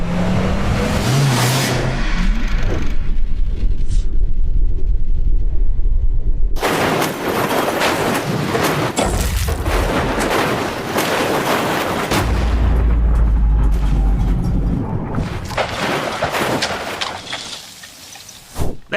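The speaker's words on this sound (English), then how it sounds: "What happens when you flip a car with the roll cage held together by duct tape?" A car fitted with a duct-taped roll cage flips and crashes, giving sustained loud, rough crunching and roaring noise for most of the stretch, with a short dip in the middle before the heavy tumbling resumes.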